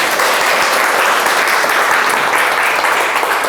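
Loud, continuous applause from an audience fills the room for several seconds, steady and close, with no talk over it.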